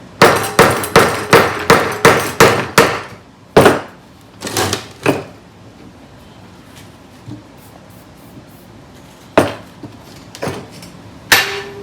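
Hammer blows through a wooden block onto the valves of a 413/426 wedge cylinder head, a rapid run of sharp knocks followed by scattered single heavy strikes and pauses, close and loud with no talking.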